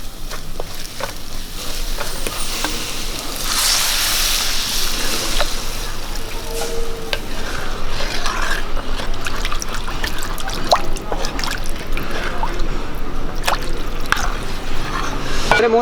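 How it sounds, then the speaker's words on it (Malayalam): Water is poured into a pan of sardine curry (mathi mulakittathu) that is seasoned with fenugreek powder and chili powder, a steady trickling and splashing stream that runs continuously for about sixteen seconds, close and fairly loud, with occasional drips and clinks. "ഇനി നമുക്ക് ആവശ്യത്തിനുള്ള വെള്ളം ഒഴിച്ചു കൊടുക്കാം"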